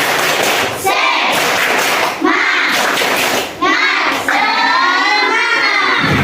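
Schoolchildren in a classroom clap their hands in short bursts separated by brief pauses, with children's voices calling out over the claps.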